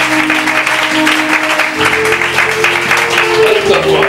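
Church congregation at a prophet's gathering in Yopougon, Abidjan, applauding in worship: steady, sustained clapping from a large crowd filling the space, with a held musical tone underneath and no talk over it.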